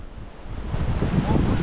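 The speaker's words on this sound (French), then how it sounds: "Mec, il y a tellement de vent." Strong wind buffets the microphone in a continuous broadband roar, rising louder after the first half second and staying steady, with no voices heard.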